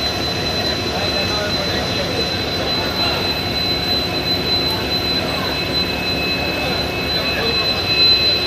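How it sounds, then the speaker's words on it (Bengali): A train pulls into a station in Assam with a continuous rumbling roar and a thin, high steady squeal from the wheels. Background chatter sits faintly beneath it. "ফাইনালি আমাদের ট্রেন চলে আসছে"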